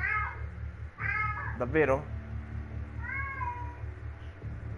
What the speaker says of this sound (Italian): La mia gatta che mi interrompe, ragazzi.